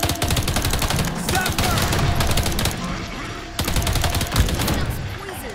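Rapid bursts of video game gunfire in Earthfall crackle almost nonstop, loud and close, with a brief lull partway through before the shooting resumes.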